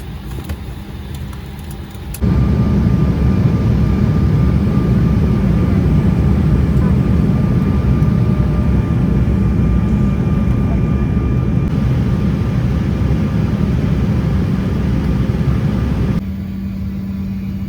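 Airplane engines at an airport, a steady loud roar that swells in and holds for about fourteen seconds before easing back, heard from close by.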